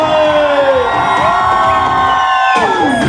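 A crowd cheers and whoops for the children at a dance academy's annual function stage show, a loud sustained roar of voices with a tonal wail running through it throughout.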